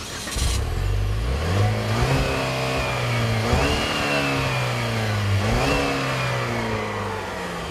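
A 2014 Buick Regal GS engine accelerates hard through several gear shifts, its rising drone climbing in pitch, dropping at each shift and climbing again, steady and prominent throughout.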